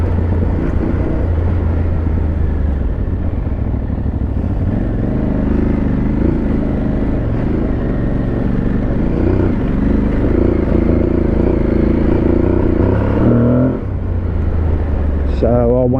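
An Aprilia Tuareg 660 motorcycle rides off road, its engine droning loud and unbroken under heavy wind buffeting, with a brief dip near the end.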